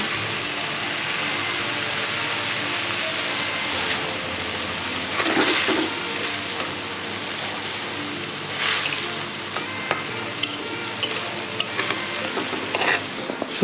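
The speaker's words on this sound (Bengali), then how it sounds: "এবার মাছটা ছেড়ে দেবো" Fish sizzles and spits steadily in hot oil in a home kitchen pan, a continuous crackling hiss with a few louder bursts of spatter and stirring, no voices.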